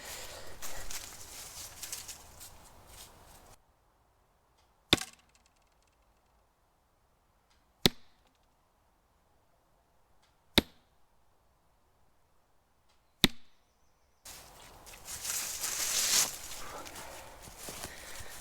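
Four arrows shot from a bow strike a target outdoors, each a sharp, loud thwack separated by a few seconds of near silence, with quieter ambient noise before and after.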